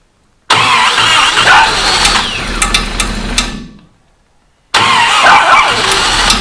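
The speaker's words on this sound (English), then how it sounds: "now that we have the motor started" First start of the motor in a flat fender Jeep: the engine cranks and catches into a loud, close rough idle, cuts out to silence for about a second, then fires up and runs again.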